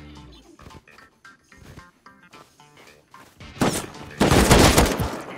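Gunfire in the game Rust: a string of sharp shots spaced through the first seconds, then a heavy, close burst of rapid fire that dominates the end.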